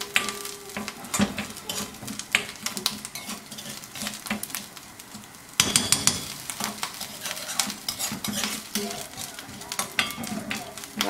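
Grated coconut browning in hot coconut oil, a steady sizzle and crackle broken by the clatter of a spoon stirring against the pan, close and fairly loud throughout.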